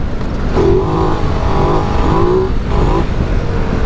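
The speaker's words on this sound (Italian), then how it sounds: "Sentite il motore Ducati" A Ducati DesertX Rally motorcycle engine, rated at 110 horsepower, revs loudly and continuously, its pitch rising and falling as the throttle is worked, with a rough mechanical roar throughout.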